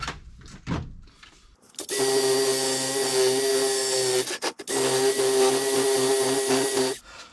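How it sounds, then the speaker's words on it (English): A small DeWalt angle grinder spins up with a loud, high whine and tonal hum, runs about two and a half seconds, cuts out briefly, then runs again steadily for a similar stretch before stopping. "My old Hitachi grinder bit the dust, so bought a nice little DeWalt. Oh yeah, got some torque."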